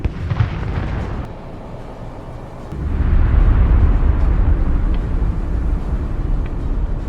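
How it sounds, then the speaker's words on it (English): Successive missile strikes hitting tanks in a battlefield column, a loud, deep rumbling blast that swells into sustained low roaring and debris noise, with a few faint distant pops, and no voices. "Successive missile strikes destroy 2 more enemy tanks. The blast shakes the ground."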